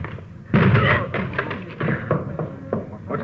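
Heavy thuds on a locked door, a loud impact followed by several irregular blows and rattles, close by with no one speaking over them.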